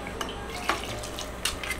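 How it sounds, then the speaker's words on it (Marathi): Hot water pours into a pot of thick mutton curry, a steady soft splashing wash with a few light metallic clinks against the pot, fairly close and without voices. "तर आता बघा पाणी वगैरे टाकून झालेलं आहे, गरम पाणी."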